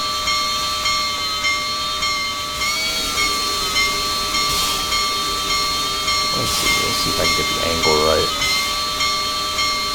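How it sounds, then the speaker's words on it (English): A steam-operated bell on a Western Pacific 4-6-6-4 steam locomotive in Trainz 2019 rings steadily throughout over a strong hiss of steam, and a voice briefly speaks near the end. "It is a steam operated bell."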